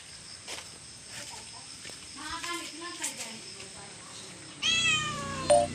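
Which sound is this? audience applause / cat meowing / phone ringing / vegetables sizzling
cat meowing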